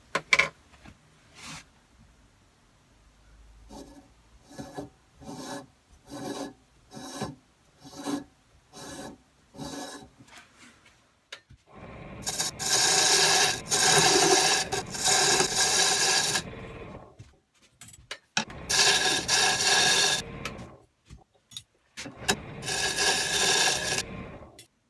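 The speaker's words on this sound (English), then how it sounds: "what I've done is I've cut the tenon" A tenon is cut on yew wood with a hand tool, first as a series of short rhythmic rasping strokes, then as longer, louder bursts of scraping and sawing close by, no talking.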